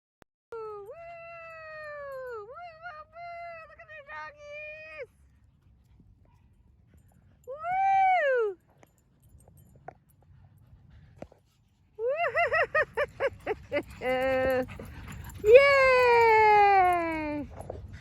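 Puppies give high, wavering whimpers and yelps in bursts, some sliding down in pitch, with quiet gaps and a final long whine, up close and clear, with background cheering.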